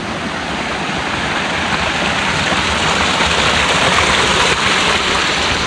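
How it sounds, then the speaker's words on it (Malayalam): A waterfall in the Nilgiri hills near Padanthorai, Gudalur, roaring as a constant broadband rush of falling water, loud and close with no breaks. "മേലെ വെള്ളച്ചാട്ടത്തിൽ തന്നെ സൗണ്ട് കേൾക്കുന്നത്"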